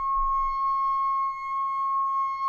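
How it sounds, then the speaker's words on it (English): A steady ringing tone from the rim of a glass, picked up by a contact mic, holds one clear pure pitch with faint overtones and sustains evenly throughout, with a little low rumble of handling underneath. "I'm trying to get that classic tone that you can get out of a glass by using the rim"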